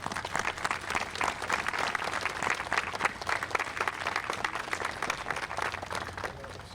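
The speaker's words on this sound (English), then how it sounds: "Let's have a round of applause." Outdoors at a Veterans Day memorial and flag retirement ceremony, a crowd breaks into a dense, sustained round of applause for veterans, which thins slightly at the end.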